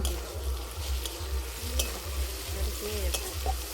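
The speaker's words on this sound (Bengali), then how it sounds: "এবার এতে লঙ্কা দিয়ে দিচ্ছি, হলুদ দিয়ে দিলাম।" Onions frying in a pan with chilli and turmeric powder just added, a continuous close sizzle with a regular rhythmic scrape of a spoon stirring about twice a second, no voices.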